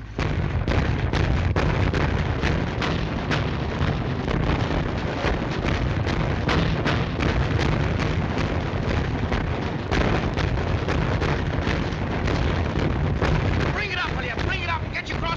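A destroyer's guns firing at a target in a 1943 film scene: a dense, loud, continuous roar of repeated blasts and wind-like rumble, with shouted voices underneath.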